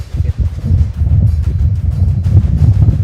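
Strong wind buffets the microphone outdoors in open Montana coulee country during a mule deer hunt, a loud, continuous low rumble with gusting surges and no speech.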